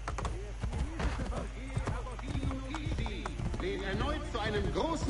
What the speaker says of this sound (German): dass man jetzt in der Stadt mit einem Pferd reiten kann